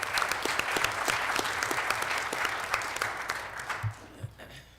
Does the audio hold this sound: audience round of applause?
yes